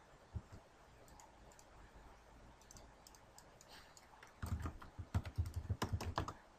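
A computer keyboard is typed on, faint scattered keystrokes first, then a close, louder burst of rapid clicking taps near the end.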